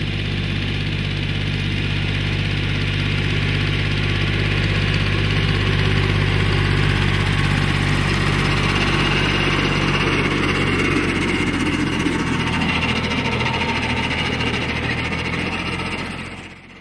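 Jinma tractor engine idling close by, a steady heavy low rumble with a constant mechanical hum that holds for the whole stretch before fading at the very end, with no talk.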